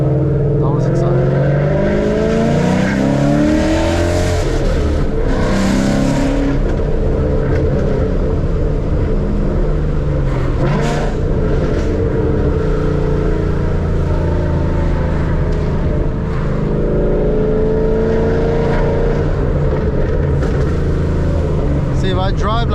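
A Mustang 5.0 with straight pipes drives along and revs up and down as a loud, steady engine drone fills the cabin, heard from inside the car, and someone talks over it.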